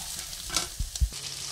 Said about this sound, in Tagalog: inisagisa ko na, sinangkutsa ko na ang black beans, ginger, shallot at garlic